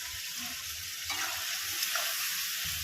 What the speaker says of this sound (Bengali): নুন আর হলুদটা যে আমি দিয়েছি এটা আমি একটুখানি কষিয়ে নেবো